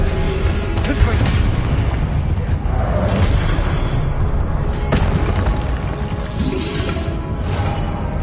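Fire-spell explosions in the Hogwarts Legacy video game, a loud dense battle mix with repeated booming blasts and whooshes layered over constant rumbling combat noise.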